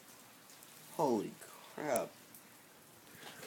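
Rain falls in a faint, steady wash on a cold spring day, partly masked by two short bursts of an excited voice.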